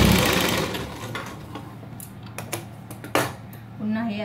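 Sewing machine stitching an edge seam on a princess-cut blouse, a close, fast mechanical whirr with small clicks and knocks, easing off partway, while a voice speaks briefly near the end.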